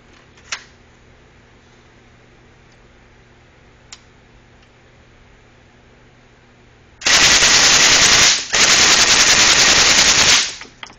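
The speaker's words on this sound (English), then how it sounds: "I got a brand new MK9 AWC suppressor, and I'm shooting 147 grain bullets." A suppressed M11/9 with a Lage slow-fire upper and a new AWC MK9 suppressor fires 147 grain rounds in two loud, sustained automatic bursts split by a short pause, preceded by quiet ticks and near silence.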